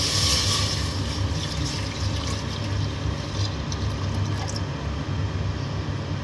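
Water pours steadily into a pressure cooker for several seconds, a continuous rushing splash with no talking.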